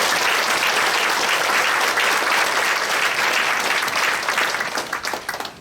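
A church congregation applauds during a worship service marking the 80th Liberation Day anniversary, a loud, dense roar of clapping that holds steady before breaking into scattered claps and fading out.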